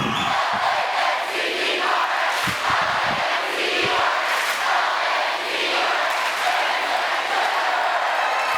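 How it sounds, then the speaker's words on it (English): High school boys' basketball crowd in a packed gym, a capacity crowd roaring through the Lancer cheer. The dense, continuous cheering is loud and sustained, with a few sharp thumps early on. "we're going to have the Lancer cheer right now as the crowd goes deaf"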